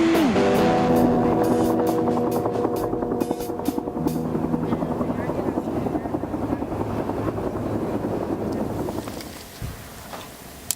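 Helicopters flying over Yosemite, a loud throbbing rotor drone with steady engine whine that holds close for most of the time, then fades and thins toward the end with no one speaking.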